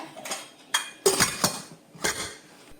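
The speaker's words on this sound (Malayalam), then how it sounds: "ഇപ്പം ഞാൻ കുക്കർ അടുപ്പ് വെച്ചിട്ടുണ്ട്" A pressure cooker set on a kitchen stove gives several sharp metallic clanks and clinks of pot against burner, spaced in short bursts, close and fairly loud, with no talking.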